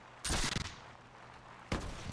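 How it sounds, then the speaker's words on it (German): Two sharp, loud gunshot blasts from a musket-era firearm in the video game Mount & Blade With Fire and Sword, each bursting then decaying with a rumbling tail, separated by about a second and a half. "Was war denn das denn für ein cooler Schuss?"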